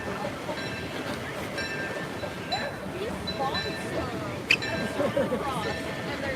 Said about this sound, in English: Hopefully you can hear the train behind me.